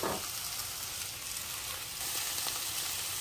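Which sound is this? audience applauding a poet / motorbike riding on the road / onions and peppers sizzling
onions and peppers sizzling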